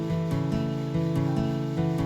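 Sustained chords for an animation song, built from hand-entered notes, repeat in a steady looping pattern with soft regular beats underneath, moderately quiet and without any voices.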